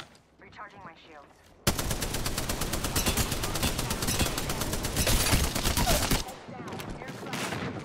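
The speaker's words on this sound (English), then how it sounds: "Contact with target. Taking shots. Opening fire." Sustained automatic gunfire in the Apex Legends battle royale game, a dense rapid rattle of shots starting abruptly after brief quiet and running loud for several seconds before cutting off.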